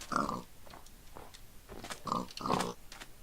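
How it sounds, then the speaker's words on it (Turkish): Pigs in Minecraft grunt and oink in a few short bursts, close and moderately loud, with quieter snuffling between them. "Merhaba domuzlar."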